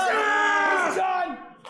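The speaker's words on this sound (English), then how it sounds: "this fantastic crowd here in Botno behind Grove again for this" A loud wrestling arena crowd roars and yells in support of Grove, a sustained massed cheer that swells and then tapers off near the end.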